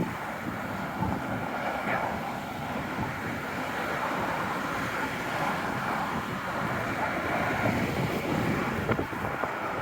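Strong north wind buffets a microphone outdoors on a city street, a loud, continuous roar and rumble with faint traffic-like noise beneath it.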